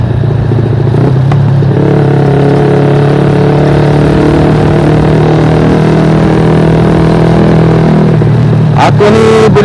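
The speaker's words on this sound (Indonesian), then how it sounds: "Buat motor aku bising." A Yamaha LC135 motorcycle with a loud, deliberately noisy setup runs close by near a bike fest in Kemaman, its engine droning steadily at a strong, even pitch, then briefly picking up at the end.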